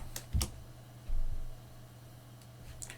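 A few keystrokes on a computer keyboard as a Linux terminal command is typed, soft isolated clicks and a brief press, close and quiet over a steady low hum.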